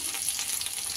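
Garlic frying in hot oil, a dense, even hiss of close sizzling without breaks, alone and fairly loud.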